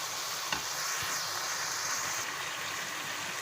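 Capsicum sautéing with chicken in a pan makes a continuous hissing sizzle, moderately loud and close, with a faint stir or tap near the start.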